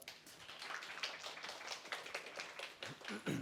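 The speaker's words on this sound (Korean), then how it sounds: "우리 테너 선생님을 모시도록 하겠습니다. 박수 한번 부탁드립니다" Audience at a prenatal class event clapping to welcome a tenor, a quiet, fairly brief patter of hands with some louder taps near the end.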